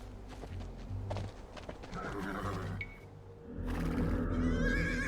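Horses neigh and whinny in Age of Empires II amid hoof clip-clop, a busy game soundscape of layered whinnies and footfalls, louder near the end.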